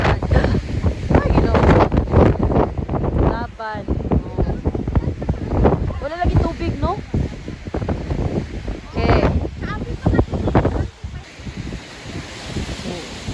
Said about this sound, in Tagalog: Naghadjong yun ang hangin.